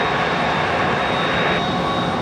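Airliner taking off from Seattle-Tacoma International Airport, a loud continuous jet engine roar filling the whole stretch without a break.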